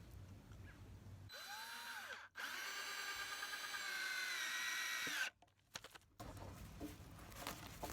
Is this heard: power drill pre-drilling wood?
yes